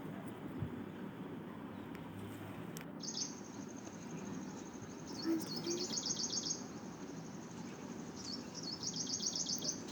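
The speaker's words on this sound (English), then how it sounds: "Birds are coming." Small birds gathering to eat grain chirp and twitter in high, rapid bursts over a low steady background hum, with a faint flutter of wings.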